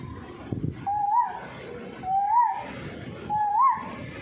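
A voice whistles three rising, cuckoo-like calls at steady intervals, imitating the bird, with faint background murmur between them.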